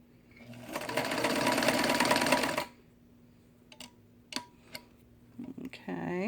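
A New Home Model 532 sewing machine runs in one fast, loud, close stitching burst of about two seconds, then stops; scattered clicks and handling taps follow, with a brief voice at the very end.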